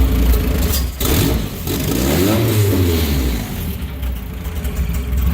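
A Honda Civic with a swapped F23A engine runs loud and close, revving up in a rising, clattery surge and settling back toward a rough idle.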